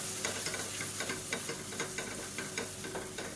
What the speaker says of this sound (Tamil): கால் டேபிள் ஸ்பூன் கரம் மசாலா இதையும் சேர்த்து நல்லா வதக்கி விட்டுக்கணும்